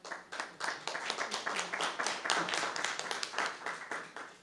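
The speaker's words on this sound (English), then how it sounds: "Well, I think you should give another a round of applause." A church congregation claps in applause, a dense run of rapid hand claps that is moderately loud and stays steady for several seconds.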